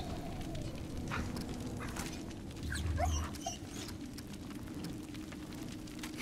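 A dog whimpers in the video game Remnant: From the Ashes, giving a few thin, brief whines over a low crackling ambient rumble like fire or rain.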